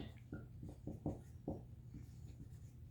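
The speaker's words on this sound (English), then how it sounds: "So let's start by writing an equation" Hand-writing a slope-intercept line equation: a series of short, distinct scratchy strokes, close and clear, forming a quick uneven rhythm with brief gaps.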